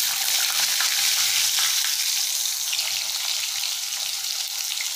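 Potatoes frying in hot oil with golden cumin seeds for a Bengali-style tilapia macher jhal, a loud, steady hiss and sizzle that carries on without pause and without talk.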